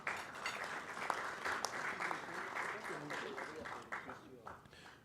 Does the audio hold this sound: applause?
yes